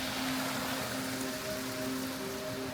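Heavy rain falling steadily outdoors in Hokkaido, a dense even hiss with a faint tonal hum underneath and no voices.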